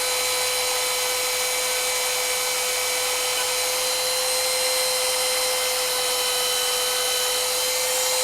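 A power tool polishing a handmade ring, a loud continuous high whine with a steady tone that holds unbroken throughout, no voices.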